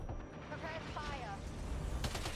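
Faint gunfire in Death Stranding 2 during a fight against a ghost mech, with a short burst of shots near the end over a low, rumbling, busy background.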